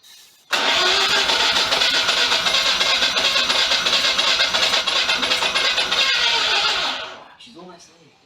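A Mazda RX-7 FC rotary engine cranks loudly and steadily for about six seconds, sputtering as it nearly catches but never fully starts, then cuts off; voices talk over and after the cranking.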